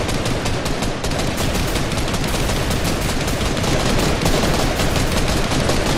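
Dense, continuous automatic gunfire in a Vietnam War-themed Fortnite Creative map, loud and close, rapid overlapping bursts filling the whole stretch with no talk.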